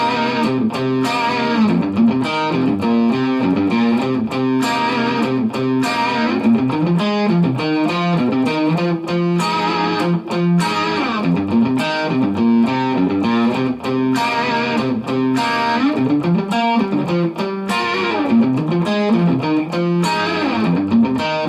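An electric guitar plays a blues rock riff with heavy distortion in standard tuning, a steady repeating pattern of loud, sustained, chugging chords and bends, played solo without any talking.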